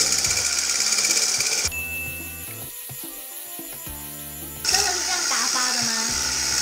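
An electric mixer whips fresh cream in a bowl, its motor giving a steady, close whine for a few seconds, with kitchen chatter and noise before and after.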